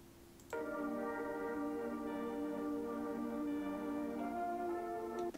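An ambient psych-trap pad sample from Looperman enters after a quiet lead-in and holds as a soft, steady sustained chord, faint and smooth, with no voices.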